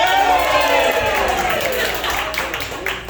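An improv comedy audience claps together, a dense burst of applause with voices that gradually thins out and fades over about three seconds.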